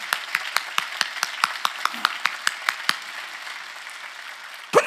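A church congregation at a Sunday worship gathering claps in a steady rhythm, about a dozen evenly spaced claps ringing out over a quiet room before a brief louder noise at the close.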